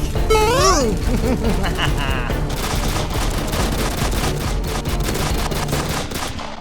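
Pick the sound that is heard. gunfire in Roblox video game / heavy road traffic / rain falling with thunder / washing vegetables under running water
gunfire in Roblox video game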